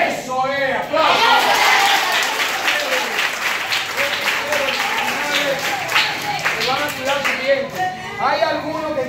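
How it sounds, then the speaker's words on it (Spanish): Children at a school burst into sustained applause, a dense patter of many hands clapping close by for several seconds, with voices calling out around it and speech returning as the clapping fades. "Aplausos."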